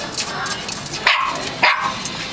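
A puppy barks twice in quick succession, sharp and close, over a background of low voices and shuffling.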